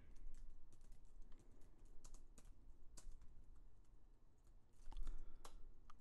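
Typing on a computer keyboard while filling in contract software: quiet, irregular key clicks and occasional heavier keystrokes over a faint steady background hum, with no voices.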